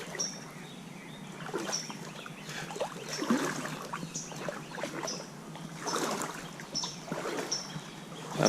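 Water flowing in Parkerson Mill Creek in the woods at Auburn University, a soft, close trickling and babbling that swells and eases in gentle pulses, heard alone.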